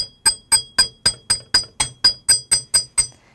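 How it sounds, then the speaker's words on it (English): A chasing hammer taps wire ear wires against a metal block, twelve evenly spaced sharp metallic strikes with bright ringing overtones, close and steady. "put the round part of it on your block and then hammer it just a little bit. And I'm using a chasing hammer."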